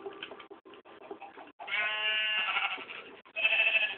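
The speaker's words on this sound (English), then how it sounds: "There's another sheep, I'm gonna attack it." Sheep in a blocky survival video game bleat in a few short synthetic calls, with the longest, loudest bleat in the middle and another near the end, close up and with no talk over them.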